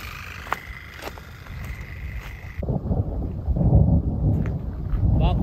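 Thunder from an approaching storm over the Yukon wilderness rumbles low and broad, building in loudness amid wind buffeting the microphone and outdoor ambience, with no talking.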